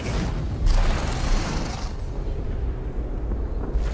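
A loud, sustained boom from an explosion in the fantasy role-playing game Divinity Original Sin 2, a heavy rumbling blast that swells early and then rolls on at full strength for several seconds without any voices.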